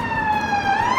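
Police car siren wailing close by on a high street in West Bromwich, a loud steady tone sliding slowly down and back up, heard alone without talk.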